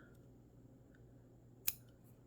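Scissors make one quick, crisp snip while the tips of fly-tying material are trimmed at a fly-tying bench for a double wing stonefly, close and isolated against a quiet background.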